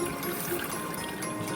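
Slow current of water pouring from a tube into a goat heart during a dissection, a steady continuous trickle close by with no one talking.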